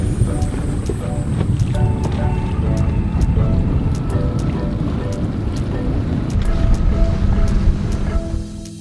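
Strong wind blows across an island in the Bahamas, a steady, loud rushing roar that fills the whole stretch, with faint clicks and knocks scattered through it.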